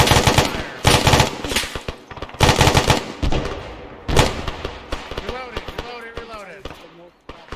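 Close, loud bursts of gunfire during a military field training exercise, with repeated rapid volleys and single shots in quick succession, then calmer with voices talking over softer pops.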